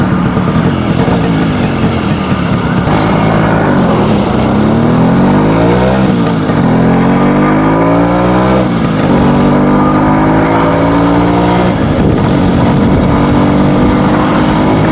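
A Suzuki Samurai two-stroke motorcycle rides out onto a bypass road. Its engine revs up through several rising sweeps as the rider works the gears, loud and close throughout, with no voices.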